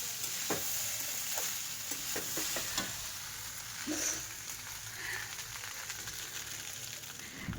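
Leftover rice is fried with mixed vegetables in a pan, producing a soft continuous sizzle with a few quick stirring clicks and scrapes early on, fairly faint and alone.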